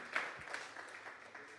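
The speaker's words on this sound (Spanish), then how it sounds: "Denle esa fuerza de palmas a Dios para que nos despertemos todos en esta mañana" Congregation clapping during a Sunday morning church service, a steady wash of applause across the whole stretch with no voices standing out.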